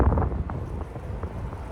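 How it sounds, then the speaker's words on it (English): Low, steady rumble of wind buffeting a microphone, loud and continuous with uneven gusty swells and no voices. "I know it's windy. Hopefully the sound's not too bad."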